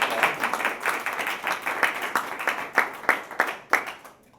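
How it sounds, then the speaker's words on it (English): A modest meeting audience gives a round of applause for their chairman Dalton: distinct, fairly close hand claps in a loose rhythm, thinning out toward the end and ending abruptly. "let's give Dalton a great round of applause"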